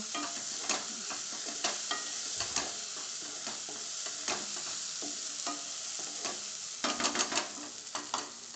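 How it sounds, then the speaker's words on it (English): A spoon stirs soft, mushy tomatoes in a sizzling onion-tomato gravy for rajma, with steady frying hiss and repeated scraping clinks against the pan, close and continuous with no talking. "The tomatoes have become soft and mushy, so I am going to stir it for say another minute or so."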